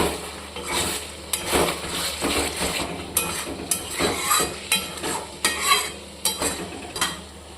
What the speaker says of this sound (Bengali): আলুগুলোর মশলার সঙ্গে দিয়ে দিচ্ছি চিকেনের আগে